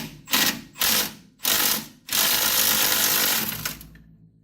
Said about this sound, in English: adjustable wrench, 14 millimeter socket. Let's see what it does.